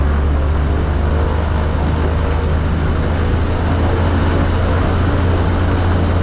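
A Zenith light aircraft engine runs up at steady high power, a loud, dense, continuous propeller roar heard up close with no voices.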